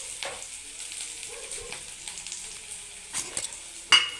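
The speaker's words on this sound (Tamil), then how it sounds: "வரமிளகா, வெங்காயம், கடலைப்பருப்பு எல்லாம் வதங்கினதும் வாழைப்பூ சேர்த்து வேக வைக்கலாம்." Banana flower stir-frying in a pan with dried chili, onion and chana dal: a steady soft sizzle runs throughout, with a few brief scraping stirs near the end and no talk.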